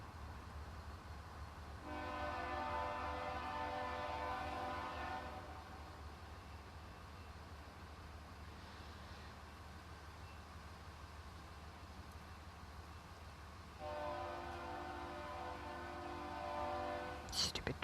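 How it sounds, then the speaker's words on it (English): Train horn in the SimCity video game, sounding in two sustained blasts of several seconds each over a low, steady rumble of a moving train, fairly quiet in the mix. "Stupid train."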